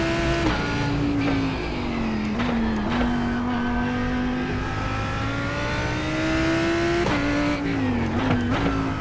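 A race car engine howls steadily through a hot lap at Virginia International Raceway in the iRacing sim, its pitch dipping with each downshift and climbing again under throttle. A faint tire squeal comes through near corners, and no one speaks.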